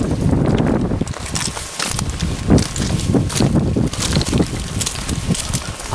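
Wind gusts steadily across a rocky shore on Vigur Island in Iceland, a loud, continuous rushing roar with buffeting swells, close to the microphone and alone.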